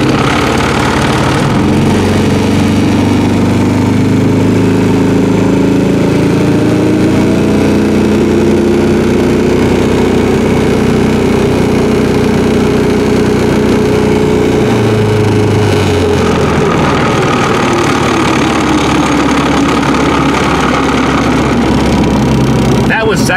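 A Yugo GV with a swapped-in Harbor Freight Predator small engine driving for the first time, its loud close drone steadily rising and falling in pitch as it revs, with faint voices in the background.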